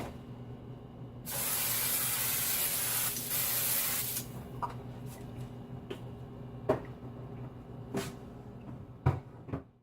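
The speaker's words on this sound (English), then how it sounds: "I'm going to spray it down with a little oil." A loud continuous spray of cooking oil onto a pan hisses for about three seconds, then a few quiet clicks and light knocks follow.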